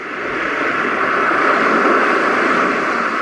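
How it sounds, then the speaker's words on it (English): A Roffie white noise machine produces a recording of powerful ocean waves breaking on sand, heard as a dense, constant roaring hiss that rises early then holds steady, with no voices. "The powerful waves crashing in on the sand."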